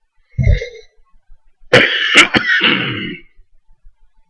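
A smoker, hoarse from a cough of a few days, clears his throat once, then lets out a burst of harsh, close coughs, with quiet pauses around them.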